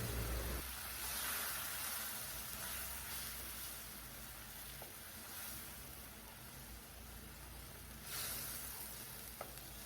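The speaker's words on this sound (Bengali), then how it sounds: "এবার সব কিছু ভালোভাবে কষে নেবো" Spice paste of yogurt and poppy seed being stir-fried for a potato and pointed gourd curry, a steady close sizzle and hiss running throughout with soft intermittent scraping, no talking.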